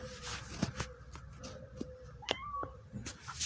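Several short cat meows from the video game Cat Sim, some rising in pitch, sounding somewhat synthetic, over a steady low background hum with faint clicks.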